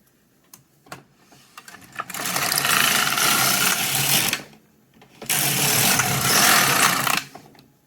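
Knitting machine carriage swept across the needle bed in two passes, each a few seconds of loud, close, rasping mechanical whirring, separated by a short pause with faint clicks and handling noises around them.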